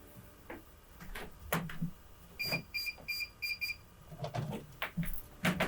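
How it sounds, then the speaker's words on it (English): A short series of electronic beeps and an alarm bell from a security recorder ring out over faint footsteps and room noise, chiming quietly nearby. "You can see immediately we got the beep, we got the alarm bell"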